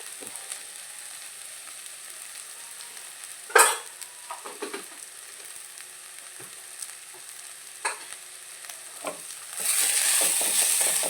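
Kashmiri chili powder and coriander powder being stirred into a brinjal curry in a pan, giving a soft sizzle with a few scraping clinks of the spoon, then a louder hissing fry near the end.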